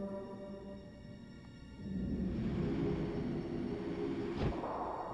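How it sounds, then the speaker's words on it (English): A tram in the adventure game The Dig starts up with a low mechanical rumble that swells after a quiet humming start, steady rolling noise with a brief thump near the end. "Okay, this tram is working."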